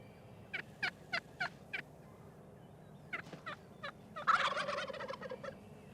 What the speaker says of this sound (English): These are eastern wild turkeys